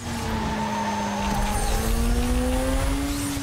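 Mazda RX-7 in the racing game Need for Speed Most Wanted, engine droning steadily with pitch rising as it accelerates through a curve, loud and continuous with a light tire scrub underneath.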